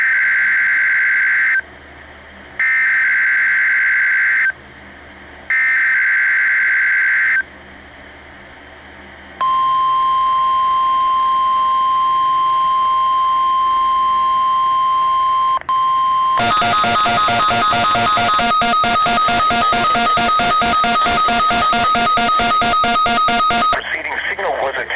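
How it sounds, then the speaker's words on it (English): NOAA All Hazards weather radio public warning alarm test on station KIH-29: three loud pulsed header bursts, then a long steady high alert tone, then a dense buzzing data burst, all very loud and close. "Preceding signal was a test of the public warning alarm system for NOAA All Hazards radio station, KIH-29"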